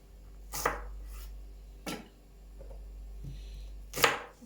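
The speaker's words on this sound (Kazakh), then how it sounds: "Осылай турап, ірі-ірі қылып, ірі бөліктерге бөліп," A knife chops ingredients into large pieces for lentil soup on a board, with a few separate, fairly quiet strikes spaced unevenly and no talk.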